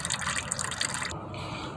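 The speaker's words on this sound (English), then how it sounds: "So remove your filter wrench and unscrew the filter and let it drain." Motor oil pours from a car's loosened oil filter into a pan, a close, continuous splashing trickle that thins slightly toward the end.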